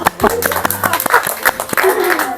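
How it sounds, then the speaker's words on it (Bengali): A short burst of hand clapping from a small group at a quiz prize event, with voices over it. "তালি দাও"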